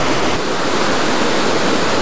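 Eas Fors waterfall on the Isle of Mull roars steadily and loudly from up close, a dense continuous rush of falling water with no voices.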